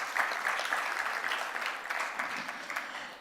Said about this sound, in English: Yes, you can give a round of applause, that would be great.